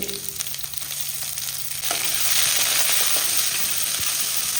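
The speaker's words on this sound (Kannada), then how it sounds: "ಇದೆಲ್ಲ ಚೆನ್ನಾಗಿ ಫ್ರೈ ಆಗಬೇಕು ಈರುಳ್ಳಿ ಅಂತೂ ಒಳ್ಳೆ ಫ್ರೈ ಆಗಬೇಕು" Onion, garlic and curry leaves fry in a pan with a dense, loud, continuous sizzle that swells halfway through, with occasional light stirring scrapes and no talking.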